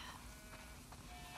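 Sheep bleat faintly from a flock in the video game The Last of Us Part II, a brief soft call over a dense, murky background.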